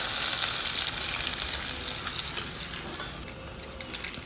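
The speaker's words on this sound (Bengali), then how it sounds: "কালো জিরের ফোড়ন দিলাম একটু বেশি করেই কালো জিরেটা দেবো বেশ ভালো লাগবে আর থেতো করা রসুন ছিল সেটা দিয়ে দিলাম" Crushed garlic and nigella seeds sizzle in hot oil, a dense, close, crackling fry that holds steady and eases slightly toward the end, with no voices.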